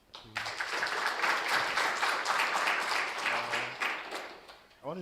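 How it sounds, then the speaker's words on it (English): An audience at an information session gives a round of applause, dense steady clapping that starts abruptly, holds for about four seconds and fades, with a voice briefly heard at the start and end. "Just a round of applause."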